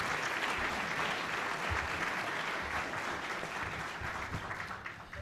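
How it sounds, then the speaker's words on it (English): Luncheon audience at the National Press Club giving a warm round of applause, a continuous dense patter of clapping that fades slightly toward the end. "Please give them all a warm round of applause."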